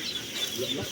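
Chickens cluck briefly at a duck farm in Davao del Norte, fairly close over steady outdoor background noise.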